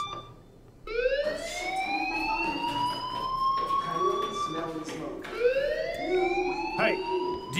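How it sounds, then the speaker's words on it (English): A fire alarm in the video game Life Is Strange wails with repeated rising electronic siren sweeps, loud and continuous throughout. "do you hear that fire alarm?"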